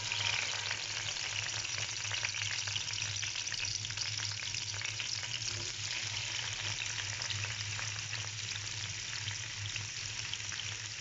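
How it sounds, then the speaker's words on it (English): Fish frying in hot oil over medium heat for a fish gravy: a dense, even crackling sizzle that holds steady and close throughout, with no talking. "so that it will be fried, and then it will be fried and then crispy type"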